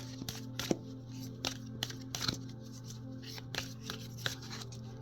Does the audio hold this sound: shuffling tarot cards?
yes